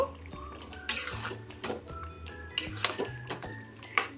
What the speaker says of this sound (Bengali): এবার আমি এটাকে সুন্দর করে নেড়ে নেব।